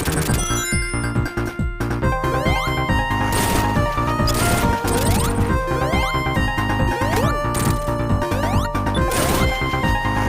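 Busy, dense video game music plays continuously with layered melodies and crashing percussion, loud and without any talking.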